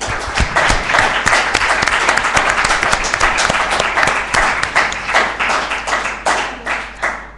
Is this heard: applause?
yes